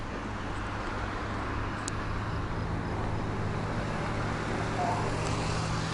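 Steady traffic rumble of cars driving across the Rio-Antirio Bridge in Greece, a continuous, moderately loud roadway wash with no distinct single pass and no talking.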